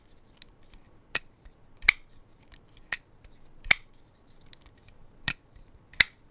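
A budget folding knife with a flipper is snapped open and shut repeatedly, giving sharp, crisp metallic clicks spaced about a second apart with quieter ticks between them.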